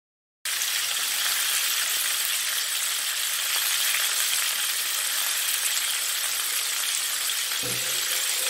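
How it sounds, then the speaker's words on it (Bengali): Fish frying in a pan in a home kitchen, a steady, dense hiss and crackle of hot oil that starts abruptly and continues unbroken, close and fairly loud, with no talking. "ওদিকে মাছটা ভাজা হচ্ছে"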